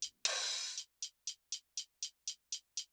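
Drum Machine Designer hi-hats processed with compression and a vinyl plugin: one longer open hiss followed by a steady, evenly spaced run of crisp closed ticks, dry and alone.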